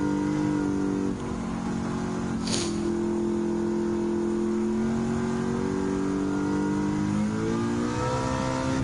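A Ford Shelby GT350R and other American racing cars in Gran Turismo 7 drone with steady engine noise under acceleration, pitch rising and falling through gear changes, with one brief sharp high burst midway.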